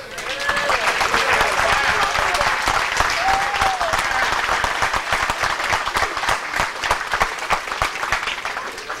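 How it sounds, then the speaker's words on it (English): Loud, sustained applause from a banquet crowd honoring high school sports hall of fame inductees, dense clapping continuing throughout with a few voices calling out over it. "Let's give them another round of applause."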